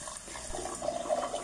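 Water running from a tap in a Mauritian TikTok, a steady close hiss of flowing water that holds for a short moment without any speech.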